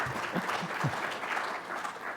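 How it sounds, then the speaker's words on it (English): Audience applause in a lecture hall, a short burst of steady clapping from many hands at moderate distance, with a low murmur of voices beneath. "I'll convey your applause to Bill."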